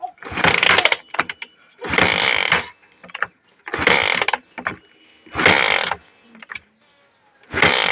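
A Honda CBR motorcycle that has sat unused for a long time has its electric starter cranked in five separate bursts of about a second each, with pauses between them, close and loud, never catching.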